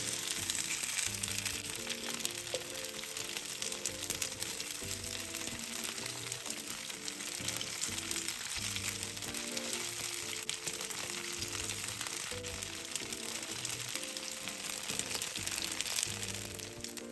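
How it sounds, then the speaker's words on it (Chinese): Taro noodle cake pan-fries in a little oil until golden, giving off a steady, even sizzle that runs without pause under a faint tonal background. "也可以在平底锅内加少许油，将芋头面线糕煎至表面金黄"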